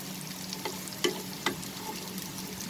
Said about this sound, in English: we will increase the flame now and fry this till it becomes a little bit more brown in color